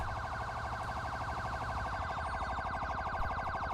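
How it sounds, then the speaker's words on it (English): A loud, rapidly warbling police siren in Grand Theft Auto V wails continuously and close, with no voices over it. "That siren is very loud and annoying"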